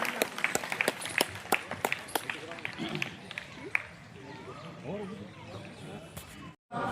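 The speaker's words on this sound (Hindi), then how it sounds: "शास्त्री के लिए जोरदार तालियां, पूरी टीम के लिए जोरदार तालियां।" Scattered, sharp claps ring out from the crowd at an outdoor International Yoga Day event, thinning out after a few seconds as talking voices take over.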